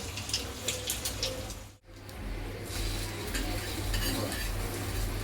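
Egg bread frying in a pan, a close, steady sizzle with faint scraping that drops out briefly before resuming louder, accompanied by a low hum.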